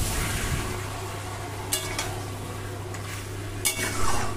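Marinated mutton stir-fried in ginger-garlic-chilli paste for a potato-mutton curry, giving a steady soft sizzle broken by two sharp spatula scrapes against the pan, no speech.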